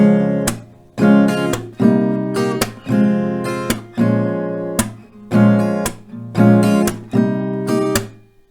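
An acoustic guitar strums a chord progression starting on C, with regular down-up strokes punctuated by hand claps, repeating in an even rhythm of about eight bars, close and clear with no talking.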